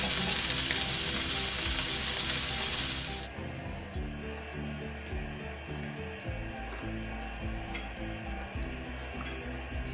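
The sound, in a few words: vegetables for pasta frying in a pan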